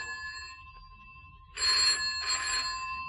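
Telephone in an empty house rings in two bursts after a stretch of quiet hum, the ring moderately loud and set back in the room, with no voices.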